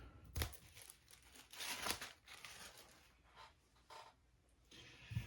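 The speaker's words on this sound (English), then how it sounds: "So let's get this paper off here." Paper wrapping is peeled and torn off a new MacBook Air M1 in a series of close, crisp rips and crinkles, with quiet pauses between.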